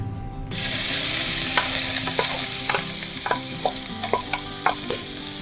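Chopped onion, ginger and green chilli hit hot mustard oil in a non-stick pan, a loud sizzle erupting at once and frying steadily, with scattered clinks and scrapes of stirring on top.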